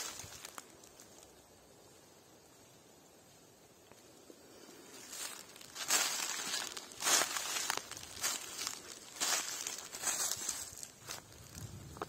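Soft rustling and crackling at a forest anthill among old pine trees in spring, faint and close, in irregular bursts with scattered dry crinkles.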